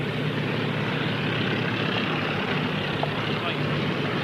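A Wilga-35A light propeller aircraft flies past in a steady, continuous engine drone during a flypast over the river in St. Petersburg, with loud broadband noise from start to end.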